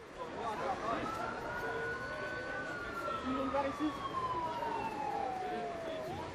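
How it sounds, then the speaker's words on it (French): Emergency vehicle sirens wail through a street in Molenbeek, a wavering, gliding tone rising and slowly falling at moderate distance over a steady urban rumble, with people talking underneath. "nous parviennent des cris, des coups de feu, des sirènes"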